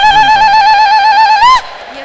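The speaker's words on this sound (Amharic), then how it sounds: "እስኪ እልልታ ያለው ሰው ለጌታ ከዚህ በላይ እልልታ" Sustained high trilling ululation rises strongly over a church service praise gathering, wavering steadily for about a second and a half before cutting off abruptly, leaving faint murmur behind.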